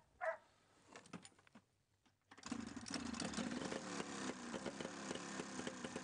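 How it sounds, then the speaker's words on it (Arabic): A Buran snowmobile in Siberia, with freshly replaced spark plugs, sputters through a few false starts after a single dog bark. Its engine then catches and runs loud and steady, close by, with a rough throbbing idle. "أخيراً انطلق محرك البوران بكل أسطواناته"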